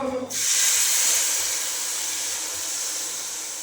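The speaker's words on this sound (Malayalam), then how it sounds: "ഇതിലേക്ക് നമുക്ക് ആവശ്യത്തിന് കുറച്ച് വെള്ളം കൂടി ഈ മസാല വേവാനായിട്ട് ഒഴിച്ചു കൊടുക്കണം" Water poured into a pan of hot Kerala chicken curry masala bursts into a loud, close hiss that swells quickly and then settles into a steady, fading sizzle, with no voices.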